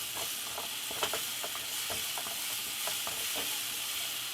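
Food for an eggplant sub stirred in a hot pan, a steady frying sizzle with soft scraping clicks from the utensil scattered through it, fairly quiet and without talk.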